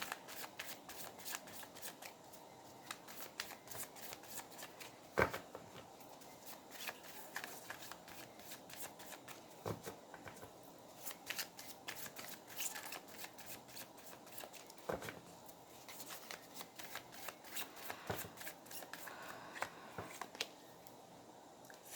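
Tarot cards are shuffled steadily for over twenty seconds during a Bengali love tarot reading, a soft, continuous riffling and slapping of the deck, close but quiet, with no talking.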